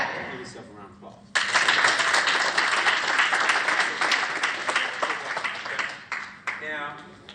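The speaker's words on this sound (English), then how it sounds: "Give yourself a round of applause." Loud, dense applause from a large audience at a grand opening event in Detroit, Michigan, bursting in suddenly after a quieter start and holding steady for several seconds before thinning, with voices mixed in.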